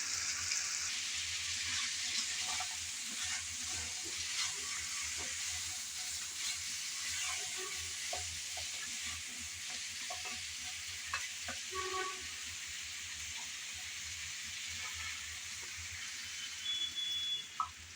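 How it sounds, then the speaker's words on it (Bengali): Bitter gourd and shrimp cooking in a pan with water added: a continuous soft sizzle and hiss with scattered light stirring clinks and bubbling, moderately close and steady for the whole stretch. "এখন দিয়ে দেব কিছুটা পরিমাণ পানি।"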